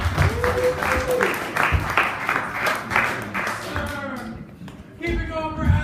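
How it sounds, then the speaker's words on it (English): A comedy club audience applauds a comedian's introduction with a dense, steady wash of clapping, fairly loud and close. A voice cuts through near the start and the clapping fades slightly before a burst of noise near the end. "give a round of applause"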